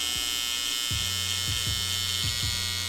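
Electric hair trimmer buzzing steadily up close during a mid skin fade haircut, with a constant high whine and a few short shifts in pitch as the blade meets the hair.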